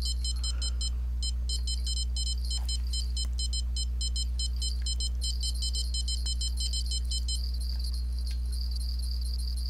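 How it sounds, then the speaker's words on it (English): Severe thunderstorm warning alarms sound across town, a fast run of high repeating beeps that keeps going nearly throughout over a steady low hum, with no talking. "And there's a severe thunderstorm warning alarms."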